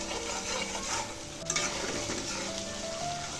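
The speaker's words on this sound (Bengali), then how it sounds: "মশলাটা ভালো করে কষিয়ে নেব" Spice masala of chilli, turmeric, cumin and garam masala powders for chicken khichuri frying in a pan, a dense close sizzle with steady stirring throughout.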